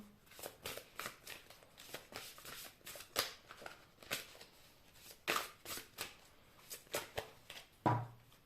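Tarot cards being shuffled by hand, a quick irregular series of close, crisp riffling slaps and flicks, with a sharper knock near the end, no voices.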